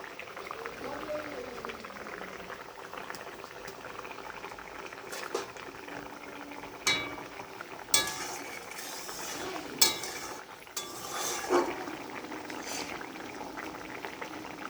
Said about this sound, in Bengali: দেখো ভাত ফুটে গিয়েছে, একদিকে ভাত হচ্ছে আর একদিকে মাছের তরকারি হচ্ছে।